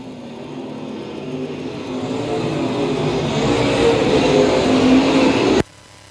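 Late model race cars on a speedway track, a steady loud roar of several engines building gradually as the pack passes, then cutting off abruptly near the end.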